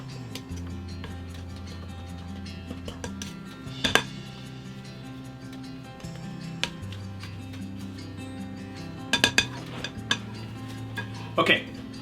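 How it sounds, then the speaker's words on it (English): Keto pumpkin pie crust dough is mixed in a bowl, with soft stirring and scraping under a low hum and a few sharp utensil clinks against the bowl. "So give it a good mix, really incorporate all that stuff together very well."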